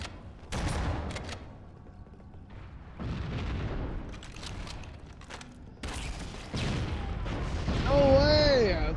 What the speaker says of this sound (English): Chain explosion.